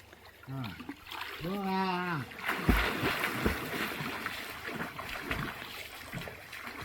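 Someone swims in a woodland pond on a hot day, with close, continuous water splashing and sloshing, and a brief voice near the start.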